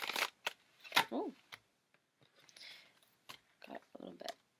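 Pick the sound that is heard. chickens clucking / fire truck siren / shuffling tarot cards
shuffling tarot cards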